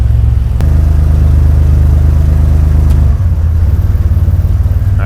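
An AWD turbocharged Chevrolet S10 pickup revs hard and close as it is driven through the gears. A loud, sustained engine roar drops sharply at one shift before pulling again.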